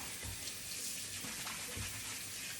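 Water running and gurgling down a noisy kitchen sink drain, a continuous rushing hiss with low glugging pulses, close and steady for the whole stretch.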